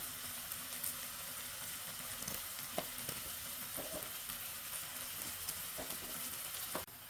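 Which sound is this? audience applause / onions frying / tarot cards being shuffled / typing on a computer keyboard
onions frying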